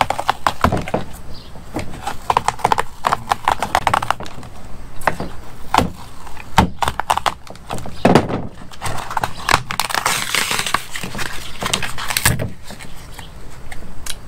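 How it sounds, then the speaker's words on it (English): Cutting around the factory door speaker cone of a 2018 Ford F-150 makes repeated scraping and cutting sounds with sharp knocks and clicks, loud and close throughout, with no one talking. "We're going to cut all the way around this and then pull the whole speaker cone out."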